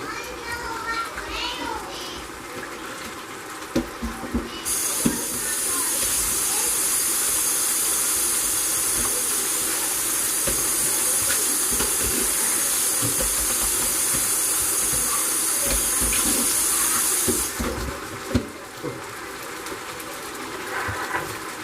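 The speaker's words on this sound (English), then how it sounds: "Let me wash this pan out real quick." Tap water runs hard into a pan being washed, a loud steady hiss that starts a few seconds in and stops near the end, with clattering and voices around it before and after.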